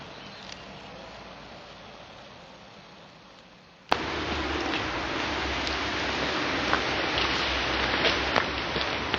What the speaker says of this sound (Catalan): Torna a caure en gotes.